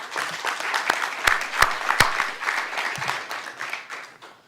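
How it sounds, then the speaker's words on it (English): Audience applause at an Orange County event honoring the National Guard for COVID testing work, a crowd clapping with sharp individual claps standing out and the sound fading toward the end. "Please join me now in applauding the efforts of the entire group who worked here"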